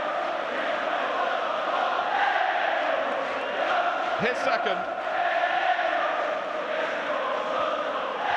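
A football stadium crowd of nearly 44,000 at Liverpool v Spurs roars after a goal, a dense, sustained wall of cheering from a distance, with a commentator talking over it.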